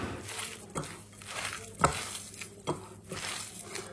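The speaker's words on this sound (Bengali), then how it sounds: "তো আমি রসুনটা একটু পুড়াই নিচ্ছি, শুকনা মরিচটাও পুড়াই নিচ্ছি" Garlic and dried chillies roasting in a pan, with soft sizzling, stirring and scraping and a few sharper clinks and taps, fairly quiet and close.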